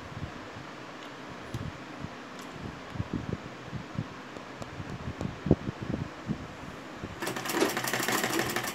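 A sewing machine stitches fabric for a baby's designer frock, a faint rapid ticking and light whir under steady background noise, with a brighter rush of sound toward the end.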